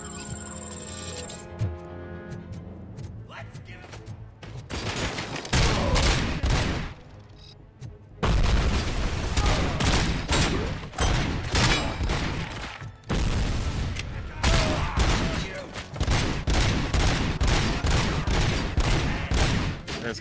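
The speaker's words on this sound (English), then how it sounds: "Trying to shoot the tank." Gunfire in a Robocop video game, aimed at a tank: loud, rapid volleys of shots crackle in dense bursts, broken by a couple of brief lulls before the shooting resumes.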